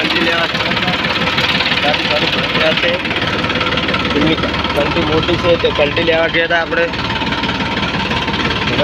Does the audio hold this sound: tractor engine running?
yes